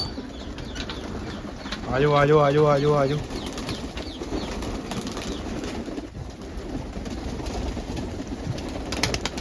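A flock of pigeons bursts into loud wing-flapping up close, followed by soft cooing and rustling movement, while a man repeatedly calls out to the birds over the scene.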